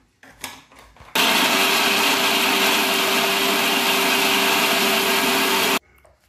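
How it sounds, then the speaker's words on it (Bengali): A mixer grinder whirs loudly and steadily for about five seconds as it blends green peas, green chili, ginger and cumin with a little water into a paste, cutting off abruptly after faint handling knocks at the start. "মিক্সিতে পেস্ট করে নেব।"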